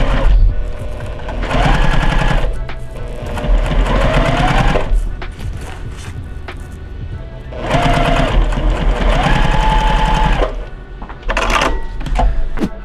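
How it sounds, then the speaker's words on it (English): A sewing machine stitches Velcro onto a washable ironing board cover, loud close motor whirring in three long rapid bursts with brief pauses and mechanical clicks between them. "I'm going to sew my Velcro in"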